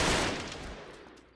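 Gunfire in the action game Uncharted: Drake's Deception: a loud, dense burst of shots that decays into a fading echo over about a second.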